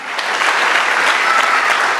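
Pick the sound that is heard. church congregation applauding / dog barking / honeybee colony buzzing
church congregation applauding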